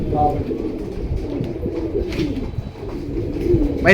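Pigeons, a silver male and a khaki female, coo in soft repeated throaty calls close by, with someone talking in the background throughout.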